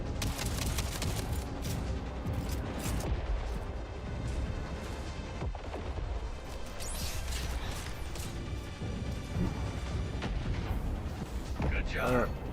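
Ship cannons booming in a naval video game battle against enemy battleships, heavy repeated blasts and crashes layered over constant rumbling combat noise, with people talking throughout.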